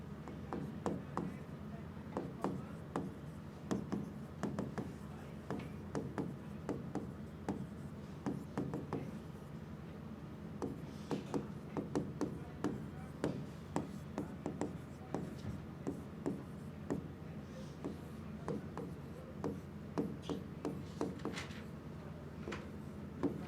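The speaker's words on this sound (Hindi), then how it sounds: "क्वेश्चन लिख दूं" Pen scratching steadily across paper as a maths question is written out by hand, a quick run of small strokes and taps, close and fairly quiet, with no talk over it.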